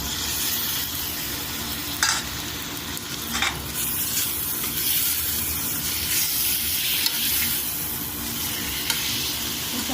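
Tomatoes frying in a pan for a bottle gourd curry give off a steady, close sizzle with occasional stirring scrapes and no talk.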